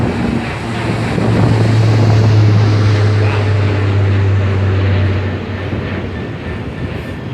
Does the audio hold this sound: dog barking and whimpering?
no